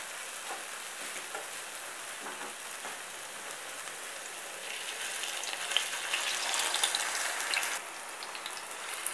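Chicken meatballs sizzle in about four spoonfuls of hot oil in a frying pan, a steady close crackle that swells louder midway and then eases, with no talk.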